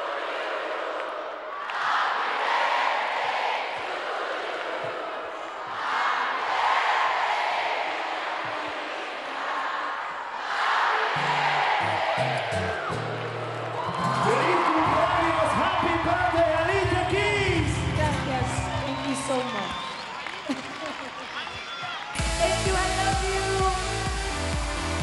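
A large concert crowd in Madrid sings happy birthday to the performer, a broad, distant roar of many voices that later gives way to loud live music with a thumping beat.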